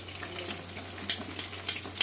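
Chicken pieces and coated vegetables, including onion, capsicum and tomato, fry in a pan with a quiet ongoing sizzle broken by a few sharp, brief bursts of hissing spatter. A low hum sits underneath.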